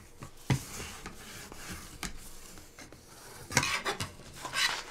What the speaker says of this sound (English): I'll use my big old spatula to make sure that I have a good stick.